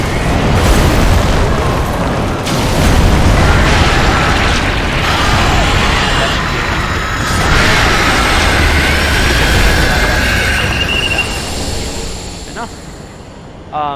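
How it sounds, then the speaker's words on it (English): Fire bomb blasts in the video game Dark Souls 3 on the High Wall of Lothric, loud booming eruptions and roaring fire over continuous game clamour, fading somewhat toward the end. "hit him with another fire bomb"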